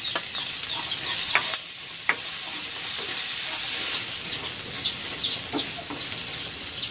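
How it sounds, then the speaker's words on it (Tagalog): Garlic sizzles in a pan of oil while pork ribs are being cooked, giving a continuous bright hiss dotted with small crackles and spatters, with no talking. "Magigisa na ako ng bawang"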